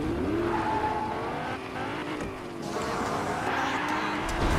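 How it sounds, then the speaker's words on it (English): Engine roar and squealing tires from a car drifting in a racing video game, loud and continuous with rising and falling pitch. "Quick drift."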